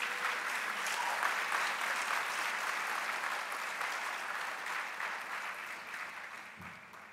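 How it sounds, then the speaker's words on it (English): Warm, sustained applause from the audience at a Mandela University summer graduation ceremony for master's and doctoral graduates, steady crowd clapping that gradually fades toward the end, heard at a moderate distance. "Let's give them a round of applause for that."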